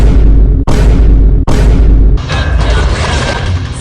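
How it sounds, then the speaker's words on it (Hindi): Loud booming gunshot effects in a comic Bhojpuri film scene: two sharp heavy bursts in quick succession, each decaying, followed by a dense rumbling blast that lingers. "विलन ने गोली चलाई है"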